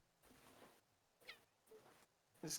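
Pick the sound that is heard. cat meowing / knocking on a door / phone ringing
cat meowing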